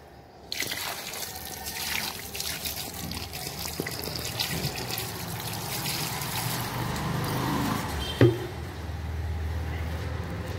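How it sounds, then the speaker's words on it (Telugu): Water is poured onto a freshly planted elephant foot yam in a home garden, a continuous soft splashing trickle running for several seconds, with a brief knock near the end. "ఇప్పుడు కొన్ని వాటర్ కూడా వేసేద్దాం."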